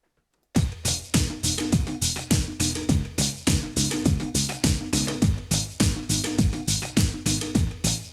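Bass line from a Yamaha PSS-470 keyboard, recorded and quantized in Pro Tools, plays steady, evenly spaced plucked notes that hit hard and decay, starting after a brief silence and holding a regular rhythm with no voices.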